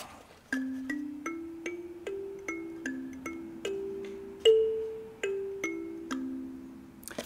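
A 9-key kalimba plays a bright, plucked melody of single metallic tones, each ringing and decaying, played slowly and steadily with no voices.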